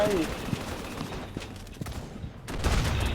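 Scattered gunfire crackles from American paratroopers in the War Alert WWII real-time strategy game: irregular shots and short volleys, fairly faint, with a voice talking underneath.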